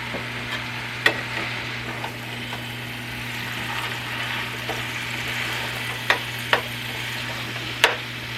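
Canned ground beef with its fat sizzles steadily in a small frying pan, a constant close hiss punctuated by a few sharp ticks and pops from stirring, with no voices.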